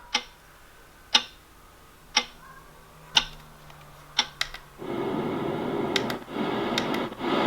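A ticking clock from a sleep sound machine gives evenly spaced sharp ticks about once per second, close and clear, before a rushing water-like hiss takes over.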